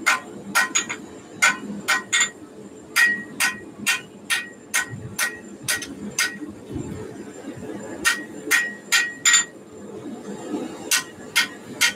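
Hammer striking bevels into hot metal during blacksmith forging, ringing out in sharp, bright, evenly paced blows from close by, with short pauses between groups of strikes.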